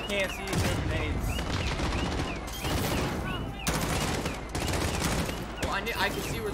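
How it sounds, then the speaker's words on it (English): Dense, rapid gunfire in Call of Duty: Modern Warfare with bursts and scattered shots, loud throughout, with voices shouting over the shooting. "I could see where the gunfire was coming from."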